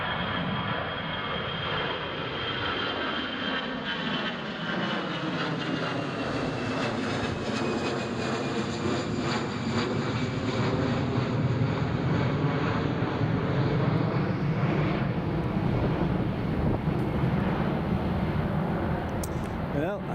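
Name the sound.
Emirates airliner engines at Newcastle Airport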